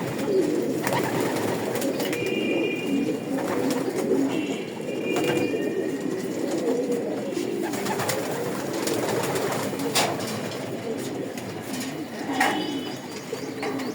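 Pigeons coo in a loft, a low bubbling chorus of many birds close by, with a few brighter chirps and flutters over the steady murmur.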